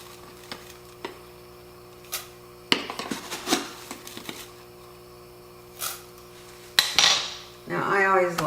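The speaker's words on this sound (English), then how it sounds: "Now I always like kind of stirring it through the butter with the onions." A utensil stirs onions in melted ghee in a pot, making scattered clanks and scrapes against the metal with gaps between strokes and a faint sizzle, close by and with no talking.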